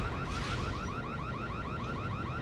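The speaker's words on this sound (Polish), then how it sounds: "Cool alarm, bro." A car alarm in the Max Payne video game wails in a steady, repeating warble of rising chirps, loud and continuous with no talking over it.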